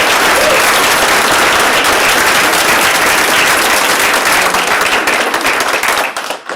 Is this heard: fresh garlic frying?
no